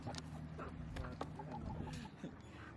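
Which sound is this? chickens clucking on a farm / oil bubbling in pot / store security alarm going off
chickens clucking on a farm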